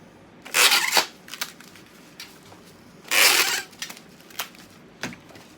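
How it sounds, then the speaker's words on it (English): Packing tape is pulled off the roll and pressed onto a parcel in two long ripping strips, each followed by a few short pats and crackles, close and fairly loud. "So get it all taped up."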